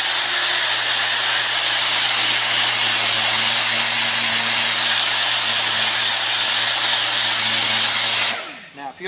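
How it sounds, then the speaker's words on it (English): Dual-action sander with 180-grit paper cutting back paint on a bumper: a loud, steady whirring hiss that runs unbroken for about eight seconds, then spins down abruptly near the end. "we're going to take 180 grit on a DA and we're going to cut back just a little bit"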